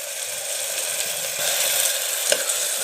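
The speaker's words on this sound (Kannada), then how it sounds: "ಹಾಕಿಬಿಟ್ಟು ಚೆನ್ನಾಗಿ ಫ್ರೈ ಮಾಡ್ಕೊಳ್ಳಿ" Ginger garlic paste fries in onion-based chicken gravy, a loud close sizzle that holds steady throughout, with faint scraping of stirring and one brief sharper crackle near the end, no voices.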